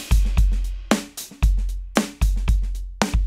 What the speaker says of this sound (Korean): 자, 이거 완전 컴프레싱 된 소리죠